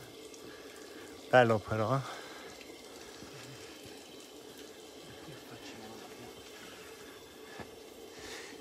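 Water runs from a fountain in the old town of Saracena, Calabria, as a faint, continuous splashing wash in the background, with a brief spoken voice near the start.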